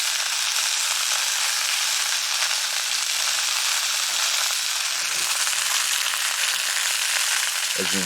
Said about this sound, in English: So we'll let them sizzle away for a little bit.